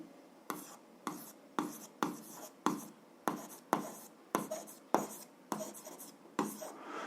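A pen writes by hand in a steady run of short scratching strokes, about a dozen bursts with brief pauses between them, close and fairly quiet.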